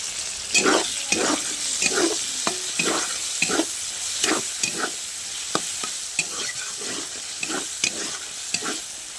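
A spice paste of dried chilli, ginger, cumin, onion, garlic and coriander powder frying in a pan for singara, with rhythmic scraping stirs over a steady sizzle, close by.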